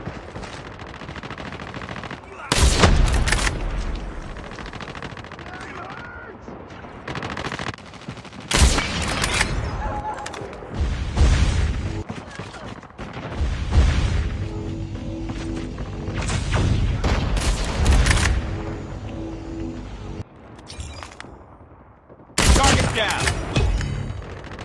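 Gunfire and explosions from the COD Mobile video game: several loud bursts of automatic fire and booms spaced through the clip, with game voice callouts and quieter stretches between.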